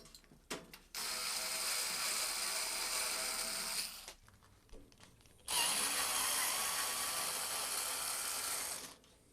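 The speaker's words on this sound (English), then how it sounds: "So let's just take off a million flathead screws all the way around and open it up." Flathead screws being driven out of the casing of a 60-year-old Craftsman arc welder with a power tool, two sustained whirring bursts of several seconds each, separated by short clicks and handling noises.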